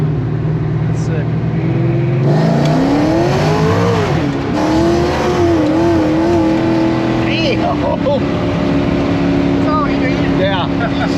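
A 600-horsepower, 2500 lb Ford Fox Body with a 10-speed paddle-shift transmission accelerates hard, its engine note climbing and wavering through gear changes as the tires break loose. Loud and close from inside the car, with people talking over it.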